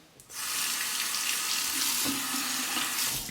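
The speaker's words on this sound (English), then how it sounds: "let's rinse" Water runs steadily from a bathroom tap into a sink while a Merkur 20B safety razor is rinsed between shaving passes, starting abruptly and continuing close and even with no talk.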